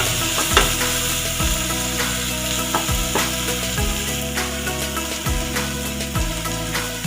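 Pointed gourd with spices frying in a pan while being stirred, a continuous sizzle broken by repeated scraping and knocking strokes of the spoon against the pan, close and moderately loud with no speech.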